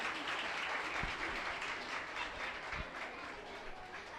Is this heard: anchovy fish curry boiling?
no